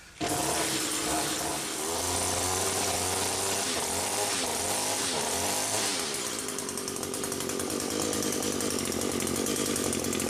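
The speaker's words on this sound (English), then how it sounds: "I cranked that trimmer up and started blowing the exhaust" A small two-stroke string trimmer engine runs close by, revving with a buzzing, fluctuating whine before settling into a steady high drone as it blows exhaust.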